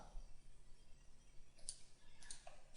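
Computer mouse clicks during CAD software modeling in Autodesk Inventor 2015, a few faint, sharp, isolated clicks over a quiet room hum with no talking.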